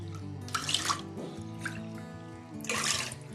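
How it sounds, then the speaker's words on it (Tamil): Water poured into a cooking pot of washed moong dal, a splashing, trickling pour in two bursts with a quieter gap between, near and moderately loud over a steady low background hum. "இது ஒரு 2 டம்ளர் தண்ணி ஊற்றி நான் வேக வச்சிட்றேன்."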